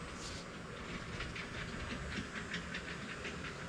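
A Lego City train rolls over plastic track across small gaps between sections, making a steady, faint rattling clatter with light repeated clicks that continue for several seconds.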